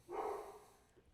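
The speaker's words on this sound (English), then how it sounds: "That's the dog." A dog gives a single short bark, fairly faint and off to the side, then the room goes quiet.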